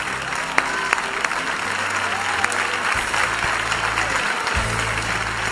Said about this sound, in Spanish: La recibimos con este fuerte aplauso.